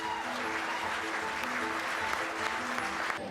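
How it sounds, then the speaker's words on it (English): Sustained audience applause for Medal of Freedom winners, a steady, full-bodied clapping crowd heard under a faint musical tone, consistent in loudness from start to finish. "Applause to our Medal of Freedom winners"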